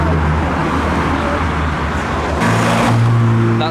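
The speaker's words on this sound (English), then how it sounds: "Next up, the Evo is arriving." A modified Evo arriving at a Japanese car meet, its engine note rising loudly near the end over a steady rumble of other idling cars and traffic.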